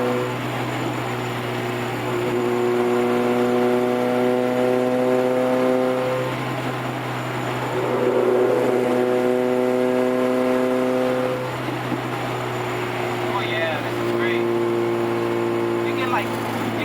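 A lowered car on new Maxpeedingrods coilovers is driven through turns, its engine note humming steadily from inside the cabin and rising and falling in pitch as it shifts, with faint noises near the end.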